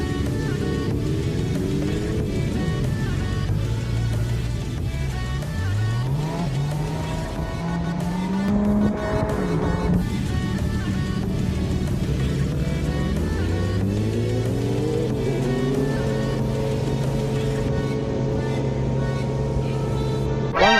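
Engine of a 2023 Kawasaki Z900SE motorcycle revving and pulling through gears while riding, a loud continuous drone whose pitch rises and falls repeatedly with throttle changes, close and steady for the whole stretch.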